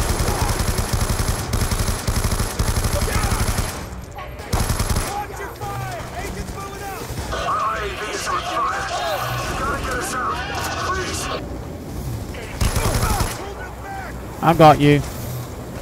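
Gunfire in Call of Duty Black Ops II, with bursts of automatic weapon fire amid wind and engine rumble, under shouted voices and dialogue; loud rapid volleys in the opening seconds, then scattered shots.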